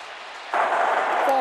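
A roaring crowd at a college football game between Alabama and Auburn swells suddenly into a dense wash of stadium noise, loud and sustained.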